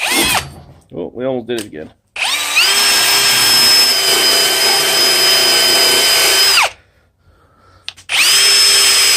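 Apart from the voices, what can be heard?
cranking the tool in during restoration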